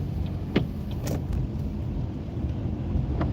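A car accelerates gently through city traffic, heard from inside the cabin as a steady engine and road rumble with a few faint clicks and knocks, no voices.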